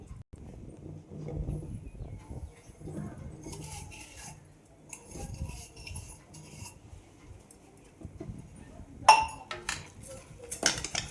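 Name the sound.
stirring sugar into semolina kesari in a pan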